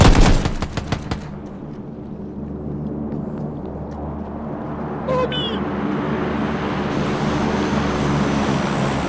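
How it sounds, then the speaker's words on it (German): Gunfire in the PUBG battle royale video game: a rapid burst of loud shots up front, then a quieter rumbling backdrop with another faint crack midway, under steady game ambience. "Auf mich wird geschossen und ich weiß nicht woher"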